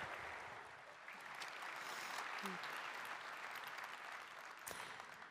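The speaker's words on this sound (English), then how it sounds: "Give him a round of applause" An audience at the NetApp Insight 2018 keynote in Las Vegas gives a round of applause. The clapping is faint and distant, blurred into a steady wash that holds for about five seconds with no speech over it.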